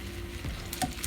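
Lean boneless pork chops frying in a pan, a steady close sizzle with a faint crackle and one brief clink, no talk.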